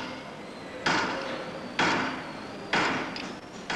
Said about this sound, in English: The chisel is digging deeper and deeper down into the work.